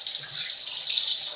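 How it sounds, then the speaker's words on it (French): Water runs from a tap over hands being rinsed, a brief, soft, steady hiss with no talking. "On rince."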